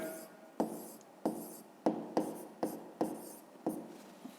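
Pen strokes scratching across paper while math is worked out by hand, a series of about eight short, crisp writing bursts in a steady rhythm, close and fairly quiet, with no voices.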